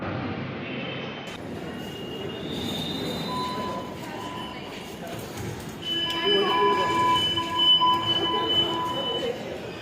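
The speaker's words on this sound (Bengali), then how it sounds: "পাই গেছি আমরা মেট্রো স্টেশনে এখন আর" A metro train at a metro station, with rail and wheel noise and tonal squeals that grow louder in the second half. Crowd chatter and talk run underneath throughout.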